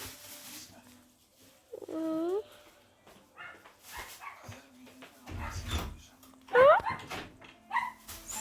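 A dog at home yips and whimpers in short bursts, with a couple of sharp higher barks, close by between quiet gaps while someone talks over it at times.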